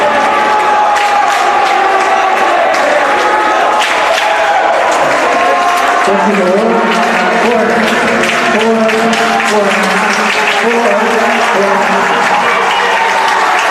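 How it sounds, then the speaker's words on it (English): A crowd at a high school swim meet roars and applauds as a swimmer finishes the 100-yard backstroke, loud sustained cheering and clapping echoing through the natatorium with voices mixed in. "David will get a roar of the crowd as he finishes up his 100-yard backstroke."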